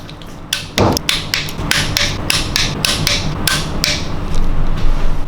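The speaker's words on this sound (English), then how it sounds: "let's torque the bolts" A ratchet tightens M6 bolts to torque on a BMW N62 engine timing cover, giving a series of rapid, close, crisp clicks in quick bursts over a low background hum.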